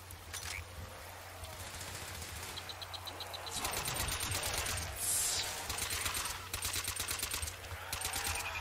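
Rapid automatic gunfire from several guns in Call of Duty: World at War zombies mode, sustained bursts rattling almost nonstop, with heavier volleys swelling midway and continuing to the end.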